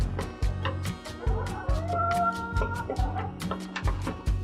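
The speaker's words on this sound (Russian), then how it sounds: "Вон, Петенька куда-то пошел. Петушок ты наш." Domestic chickens and a rooster cluck and murmur while being fed in a village yard, a busy overlapping chorus of short calls close by under a steady thudding, rhythmic background.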